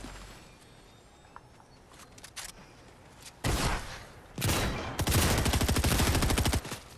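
A DMR rifle fires in a video game match, heard as loud close bursts of rapid gunfire in separate volleys with short gaps between them, the last volley long and sustained.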